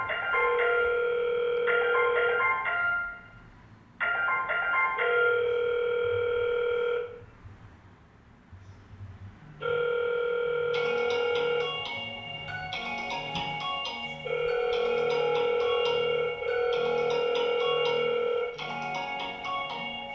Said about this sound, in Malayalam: അപ്പോൾ ഇൻഡോർ യൂണിറ്റിലേക്ക് ഇതേ കോൾ വരുന്നുണ്ട്.